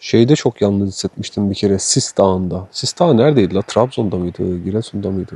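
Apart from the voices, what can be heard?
None of the usual background noises is heard.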